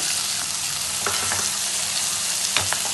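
Tomato and carrot go into a loudly sizzling pan while vegetables are cooked for sweet corn soup. A dense, continuous frying hiss runs the whole time, broken by a few sharp stirring clicks near the close.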